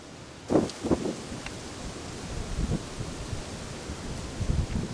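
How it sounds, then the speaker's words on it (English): Wind gusting past a hunting stand on public land, a steady rushing noise with buffeting thumps against the microphone, rising and falling throughout. "It's starting to get windier."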